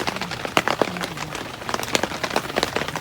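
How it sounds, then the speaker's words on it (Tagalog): Heavy rain falling at night at a campsite, a dense steady patter of drops striking a nearby surface, loud and close with no voices. "It's raining hard."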